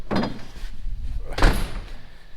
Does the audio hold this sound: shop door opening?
yes